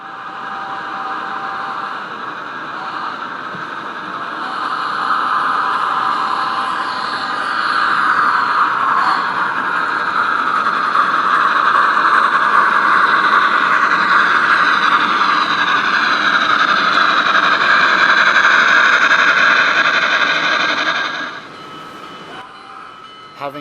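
A Union Pacific FEF steam locomotive hauls a freight train up the steep grade of Sherman Hill on the original main line, a sustained loud roar building steadily for about twenty seconds before dropping away abruptly near the end.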